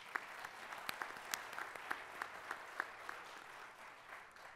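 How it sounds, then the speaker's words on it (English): Applause from a large audience at the Jalsa Salana 2019 convention, a soft, distant wash of clapping with a few sharper claps standing out, heard faintly and without speech. "please give Peruka the biggest round of applause"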